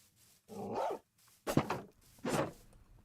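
Dogs in a survival video game bark in three loud separate bursts close by, with short quiet gaps between them.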